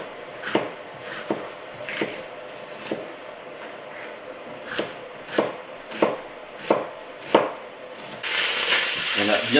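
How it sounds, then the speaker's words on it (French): Onions chopped on a board with a knife, about ten firm, evenly spaced chops close up, then a rush of loud sizzling from meat searing at full heat. "On va maintenant couper les oignons."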